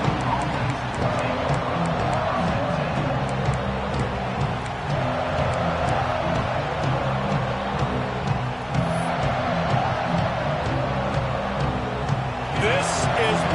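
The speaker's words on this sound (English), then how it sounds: "This crowd ready to make its presence known." Stadium crowd at a college football game between Alabama and Penn State, a steady dense roar filling the whole stretch, with a commentator talking over it.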